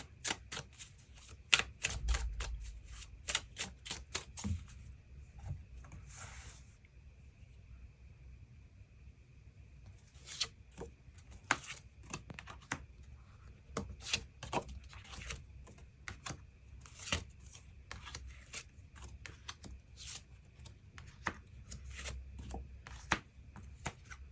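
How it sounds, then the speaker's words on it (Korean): Tarot cards are shuffled for an extra draw in a love reading, producing a quiet run of sharp, irregular card clicks and slaps with brief pauses between bursts. "그 부분 추가 카드 뽑아보도록 하겠습니다"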